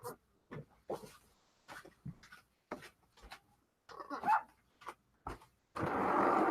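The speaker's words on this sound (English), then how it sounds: "Let me let her in because that barking is, ugh." A dog barks repeatedly in short, sharp bursts with brief gaps between, fairly close, ending in a rush of louder noise.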